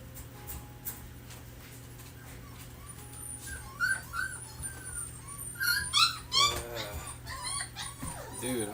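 Puppies whimper and cry in thin, high, wavering squeals that come in scattered bursts, growing busier and louder toward the end over a faint low hum.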